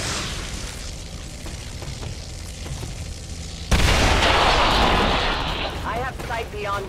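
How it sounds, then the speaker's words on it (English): A sudden heavy boom from a Blaster Bomb in XCOM 2 War of the Chosen breaks in partway through, a loud burst that then decays into rumbling debris with faint voices near the end. "we go for the Blaster Bomb right away here"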